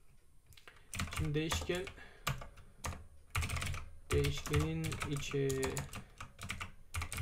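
Computer keyboard being typed on while writing program code, quick bursts of close, crisp key clicks under someone talking in Turkish.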